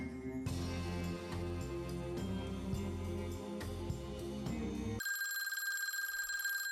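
A telephone bell rings over music in a 1950s Roy Rogers western TV episode, then gives way to a sustained electronic ringing tone near the end, loud and without any talk.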